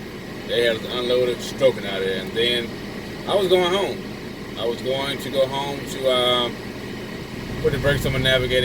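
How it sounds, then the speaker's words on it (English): Air conditioning in a truck cab gives a steady whooshing hum beneath someone talking throughout. "Sorry about the noise there, but I had to turn the AC on."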